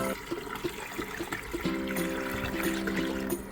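Water poured into the reservoir of an electric countertop ice maker, a steady running fill with a gurgling trickle that thickens midway and continues close by.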